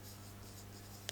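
Chalk or marker writing a sentence on a classroom board, soft faint scratchy strokes in short runs with a small tap at the end, quiet and close, no talking.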